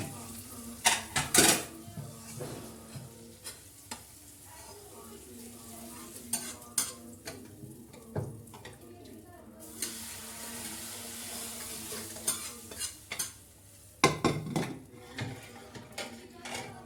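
Tadka tempering frying for moong masoor dal, with a quiet sizzle under repeated scraping stirs and clattering knocks of a utensil against the pot, loud clanks at intervals, and a little talk.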